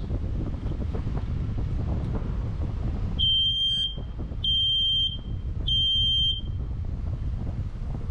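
Three loud, piercing electronic beeps from a non-addressable smoke alarm being tested sound in succession over a steady background of rushing noise.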